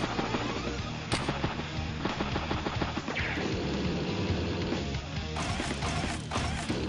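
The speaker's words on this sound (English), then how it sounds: "Tank strikes artillery." Rapid explosive bursts and crashing blasts from a tank striking artillery in the Advance Wars: Days of Ruin video game, dense and loud throughout with several sharp impacts.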